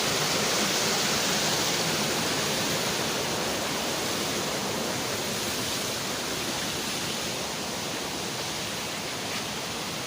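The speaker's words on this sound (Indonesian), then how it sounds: "sebuah aliran sungai yang bening banget" A clear river stream flows under a bridge on a hiking trail toward Kawah Ratu via Pasir Reung, a steady, dense rushing hiss that stays loud and unbroken throughout, with no voices.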